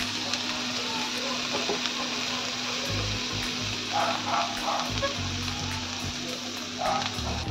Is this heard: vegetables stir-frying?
yes